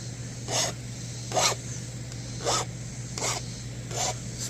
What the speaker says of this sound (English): Spin this rod to sharpen it.